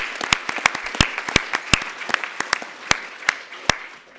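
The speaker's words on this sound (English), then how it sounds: "we should just clap for all of you for just being here" Audience applause at a forum closing plenary, a sparse, uneven patter of individual hand claps, fairly close and moderately loud, with no talking.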